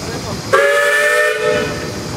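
A 1923 Case 50 horsepower steam engine at a parade sounds its steam whistle, one loud, sharp, sustained shriek of just under a second over a hiss of steam, fading back into a breathy hiss and outdoor background.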